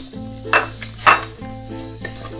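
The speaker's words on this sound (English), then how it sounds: "we've got a nice sizzle going on here with the curry, the spices, a little bit of that ginger" Curry spices and ginger sizzling in a hot pan for a yellow split pea dal with pumpkin and carrot, a close steady hiss broken by two sharp bursts of spitting oil and light utensil scrapes.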